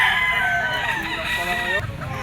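A Talisay Gold gamefowl rooster crows loudly and close, one long drawn-out call with a wavering tail, while faint background chatter sits underneath.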